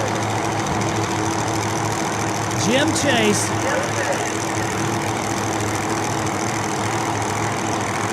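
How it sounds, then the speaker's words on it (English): A nitro funny car engine idles loudly at the starting line during Friday qualifying at Mo-Kan Dragway, a steady heavy rumble running throughout under a track announcer's commentary. "that Tower Side car will get it fired up and be ready to go"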